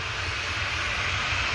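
TUI Dreamliner airliner just after pushback at Manchester Airport, its engines giving a steady, broad jet whine and rumble that holds at an even level throughout, heard from some distance with no talking.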